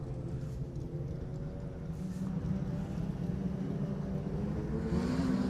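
Modified sedan race cars roar together at a speedway restart, a steady dense engine drone building slightly in loudness, heard from a distance with no voices.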